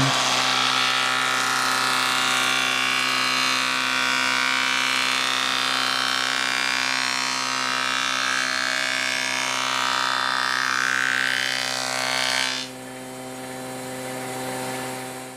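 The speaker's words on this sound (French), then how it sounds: "D'abord dégaucher une face pour la rendre parfaitement plane." A jointer flattens one face of a wooden board, its steady broadband machine roar with a constant motor hum running loud for about twelve seconds before the cut ends and the sound drops to a quieter idle.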